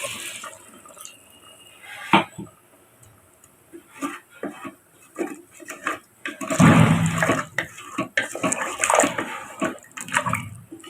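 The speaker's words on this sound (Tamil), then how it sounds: "1 கிளாஸ் தண்ணி ஊற்றிக்கலாம்." A glass of water pours and splashes into a pressure cooker of beef curry in a short burst, with dripping and light clatter before and after; no talking.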